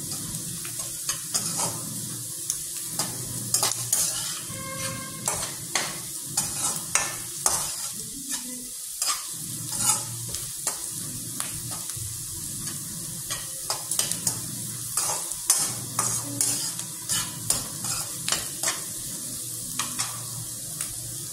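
Carrot rice ingredients frying in oil in a pan while being stirred, a continuous close sizzle broken by repeated scraping and stirring strokes at an irregular rhythm, with no talking.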